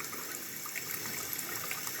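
A toilet tank fill valve spraying water out its backside, a steady close hiss and gush of running water with no pauses throughout.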